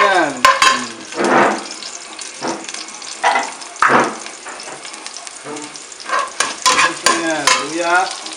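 Onion and ginger frying in oil in a pan, a steady close sizzle broken by repeated stirring scrapes and clatters, loud and busy throughout.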